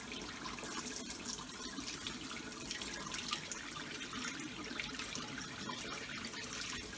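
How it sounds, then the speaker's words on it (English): Boiling water poured from a kettle over raw chicken wings, a steady splashing pour running continuously for several seconds at close range. "We pour the boiling water over it."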